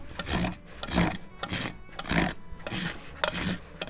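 A dull rasp is drawn over a horse's hoof wall while bevelling it during a trim. It gives steady, close, rough scraping strokes, about six in a row in an even back-and-forth rhythm.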